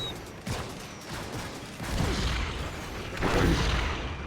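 Bomb blasts from the real-time strategy game Red Alert 3 during an Allies versus Allies match, heard as a dense battle din with heavy booming bursts near the two- and three-and-a-half-second marks.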